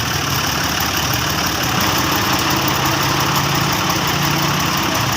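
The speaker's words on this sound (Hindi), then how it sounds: "फंस गई, ट्रैक्टर फंस गया।" A tractor engine runs steadily at a loud, close idle while the tractor sits stuck in a muddy field being ploughed to cut a drainage channel for rainwater.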